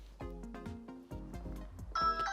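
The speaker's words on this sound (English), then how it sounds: "it will let you know when it senses motion or if someone actually rings the doorbell" A Ring Video Doorbell 2nd Gen notification chime rings out in a clear, close sequence of bright electronic tones, several separate notes ringing one after another and ending on a louder, higher ding.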